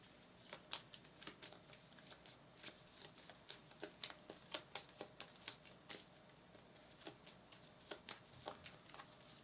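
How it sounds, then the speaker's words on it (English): Playing cards from the Hercules and the 12 Labors board game are shuffled back into the deck, giving a long run of crisp, rapid riffling clicks and flutters, close and steady for the whole stretch. "Let's shuffle this back in."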